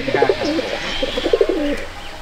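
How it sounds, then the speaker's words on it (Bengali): Pigeons at a village loft give a run of soft, throaty coos, repeated in two close bursts, near and clear without any talk. "এখানে পায়রা ল্যান্ডিং করে"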